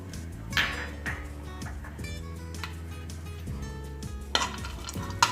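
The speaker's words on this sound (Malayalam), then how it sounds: "ഈ കാഷ്യൂനട്ട് ചെറുതായിട്ട് ഫ്രൈ ചെയ്തെടുക്കണം" Cashew nuts frying in hot ghee in a pan, a steady close sizzle with occasional light clinks of a spoon or utensil stirring, no voices.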